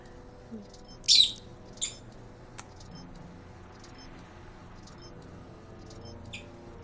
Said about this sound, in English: The birds are so cute.